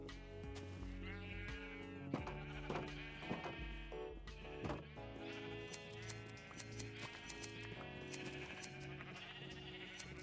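Flock of blocky Minecraft sheep bleating repeatedly in the game, their calls layered over steady background music with no talking.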